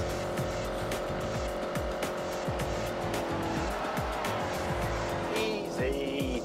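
A race car driven in The Grand Tour video game, its engine droning steadily with repeated tire squeals and skids as it slides through corners, loud and continuous throughout.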